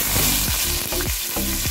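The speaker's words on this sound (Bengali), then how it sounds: "তেলটা আমার গরম হয়ে গেছে, এর মধ্যে আমি পেঁয়াজগুলো দিয়ে দেবো" Sliced onions sizzle and crackle in hot oil in a pan for a quick evening snack, loud and close, with a few stirring scrapes breaking through the steady frying hiss.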